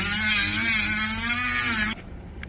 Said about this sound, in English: so now I'm going to grind this weld off